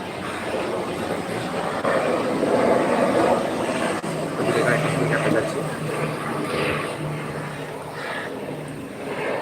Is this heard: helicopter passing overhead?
yes